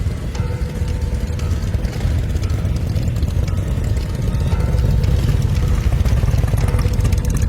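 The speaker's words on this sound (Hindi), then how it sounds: "मोटरसाइकिल की आवाज आई।" A motorcycle arrives at the edge of a village on a cold evening in a cartoon story, heard as a steady, loud low engine rumble that continues throughout with no talking.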